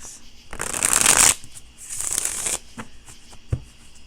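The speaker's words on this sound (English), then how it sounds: "let's pull a couple of cards on Mags." Tarot cards shuffled by hand in two long riffling bursts, loud and close, followed by a few soft taps and a card being set down, with no talk.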